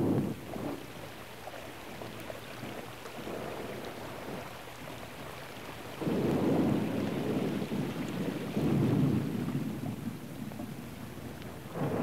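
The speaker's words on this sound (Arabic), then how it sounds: "مع الله عند هزيم الرعود ولمع البروق" Thunder rolls low and heavy under steady rainfall, with a louder, deeper rumble swelling midway and a second one near the end, all continuous with no voices.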